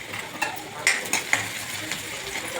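Onion frying in oil with garlic gives a soft, steady sizzle, with a few light spoon taps and stirring scrapes close by.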